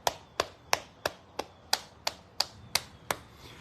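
Hands clapping close to the ear during a neck treatment, about ten sharp single claps in an even, steady rhythm, each standing out clearly against a quiet background with no talking.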